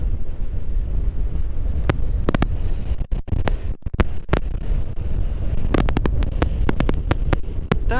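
Strong wind blows constantly beside the Atlantic Ocean on the Scottish coast, roaring and buffeting hard against the microphone, with a few sharp knocks.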